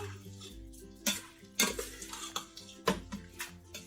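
Seasoning being stirred in a bowl for Cuban vaca frita, with several sharp clinks and scrapes of a utensil against the dish amid soft shuffling, close and without speech.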